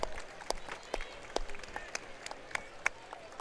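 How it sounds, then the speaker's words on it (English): Crowd applause at a PIAA girls 4A basketball championship game: scattered, moderately faint clapping with distinct individual claps and a few sneaker squeaks, heard from a distance in the arena. "Round of applause given"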